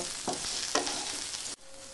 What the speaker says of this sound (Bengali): তারপর সয়াবিনগুলোকে নেড়ে চেড়ে লাল লাল করে ভেজে নেব।